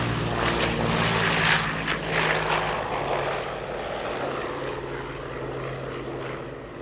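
Lockheed Constellation Wright R-3350 radial piston engines roar and throb as power builds at an air show, a broad rumbling drone with propeller buzz that swells then settles, loud and close.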